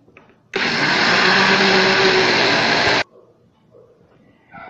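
A kitchen blender whirs loudly at a steady high pitch for about two and a half seconds, blending rice with oil and liquid for a rice cake batter, then stops abruptly, leaving quiet room noise.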